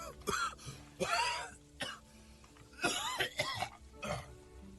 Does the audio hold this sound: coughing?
yes